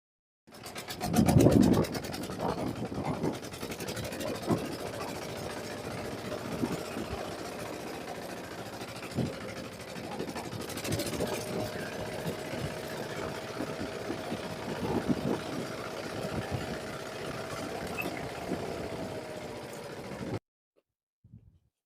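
A walk-behind tractor engine drones steadily at mid pitch as it drives off through boggy woodland during firewood gathering, with scattered knocks and scrapes over the hum, which stops abruptly near the end.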